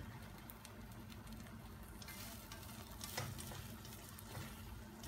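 Eggs scramble in a hot frying pan for chao fan, giving a quiet, steady sizzle with faint stirring scrapes, close by and unbroken by talk.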